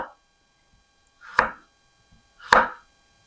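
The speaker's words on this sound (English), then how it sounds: "I'm just going to cut that end off that's really dry." A kitchen knife slices the dry end off a ginger root, giving two separate firm chops on a board about a second apart, each brief and crisp against near silence.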